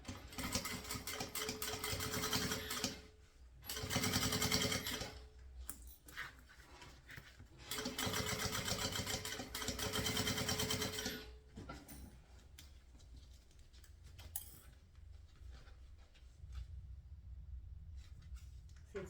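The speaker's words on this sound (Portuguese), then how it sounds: "E vamos fazer a costura de um pé de máquina aqui." A sewing machine stitches a seam on a round satin bag at a 3.5 closing stitch, running in three fast mechanical bursts separated by pauses with light handling noise.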